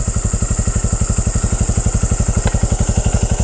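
A motorcycle engine left idling at a roadside at night, a steady rapid low thumping pulse running loud and close throughout with no voices.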